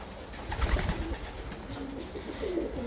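Racing pigeons, sprint birds flown in Friday-night basketing races, coo softly and repeatedly at close range in a loft, with low throaty calls rising and falling over a steady background murmur.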